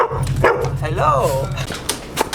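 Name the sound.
dog barking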